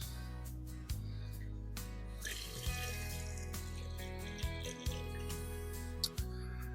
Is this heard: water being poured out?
yes